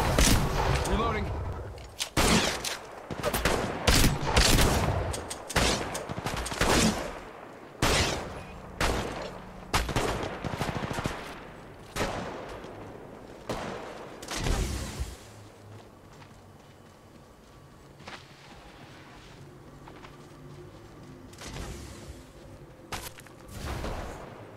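Gunfire in the mobile battle royale video game Apex Legends Mobile, with heavy bursts and single shots packed into the first fifteen seconds before fading to sparse, quieter shots, and a voice talking at times.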